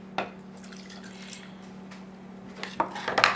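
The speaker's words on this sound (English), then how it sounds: "So I have about a quarter cup of juice in here, which I'm gonna put into my meat" About a quarter cup of fresh lime juice poured over meat for a carne asada marinade, a brief liquid splash and dribble near the end after a few faint drips and light clinks.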